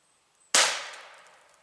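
A Vest Pocket air gun fired at a pumpkin about seven feet away, a single sharp crack that decays into a lingering ring, close and loud after near silence.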